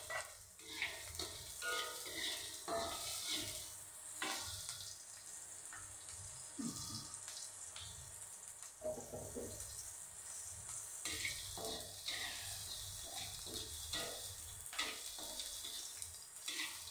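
Chili peppers dropped into a hot pan, sizzling and crackling steadily at close range with intermittent clinks and stirring, no voices.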